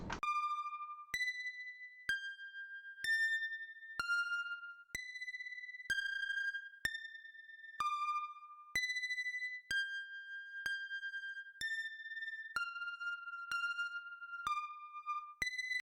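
The ARP3 arpeggio part of a Pure Data IDM synth patch: clean, pure synth tones step through a pitched sequence, each note struck crisply and ringing briefly, about one note per second, clear and alone.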